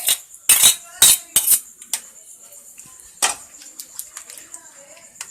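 A utensil stirs white sauce into pasta sauce in a pan, making a cluster of sharp metallic clinks and scrapes up close that fade into lighter, scattered taps.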